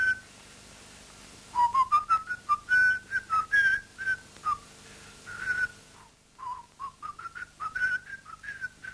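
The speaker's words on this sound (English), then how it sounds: "even the whistling of the Peer Gynt theme was redone" A melody whistled by a single person in the crime film M, the Peer Gynt theme, in clear detached phrases that rise and fall, alone against quiet background hiss with a brief pause midway.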